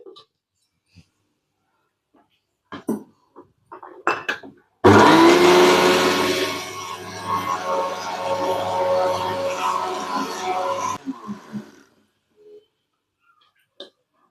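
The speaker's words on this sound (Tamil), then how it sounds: "ரவையை வந்து நம்ம நல்லா பவுட்ரு பண்ணி எடுத்துக்கிடலாம் மிக்சியில் போட்டு" A kitchen mixer grinder powders dry semolina (rava), a loud close whirring grind that starts abruptly, runs steadily for about six seconds and then cuts off, with faint handling knocks before and after.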